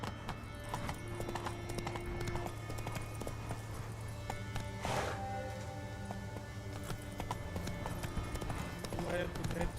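Hooves of the horse Roach clip-clopping at a gallop in The Witcher 3, a steady rapid beat under game music and faint voices, with a brief whinny midway.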